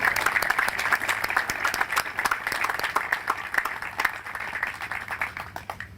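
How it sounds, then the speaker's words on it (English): Audience applause at a North Dakota Veterans Cemetery 30th anniversary observance, steady moderate clapping from a modest crowd, many individual claps audible, sustained throughout without speech. "Let's give those folks a round of applause for all they've done at the cemetery."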